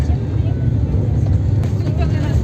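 Car driving along a sandy road toward a holiday resort in Kirovohrad region, a loud steady engine drone and low rumble heard from inside, continuous with no pauses.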